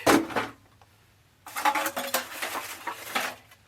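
Empty metal drink and cat food cans clatter and clink as they are handled and sorted from a basket of collected garbage, one sharp burst followed by a longer run of close, rattling knocks.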